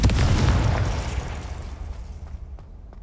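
Big booming blast from the Confringo fire spell in Hogwarts Legacy, loud and close at first, then a long rumbling tail that fades over a few seconds, with faint clicks near the end.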